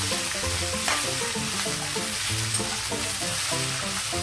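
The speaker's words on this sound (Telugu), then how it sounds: "నా పోపులు ఏగాయి, ఆకు వేసేస్తున్నాను" Amaranth leaves tipped into hot spiced tempering oil sizzle loudly and evenly in a pan, a dense steady frying hiss with no voices over it.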